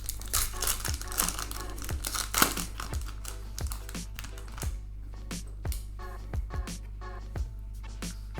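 A UFC trading card pack wrapper is torn open, giving crinkly plastic tearing with repeated short crackles and rips across the whole stretch, loud and close, with no talking.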